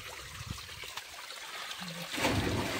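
Clean spring water flowing out from inside a rock at an outdoor nature spot, a soft, close trickle that swells louder toward the end.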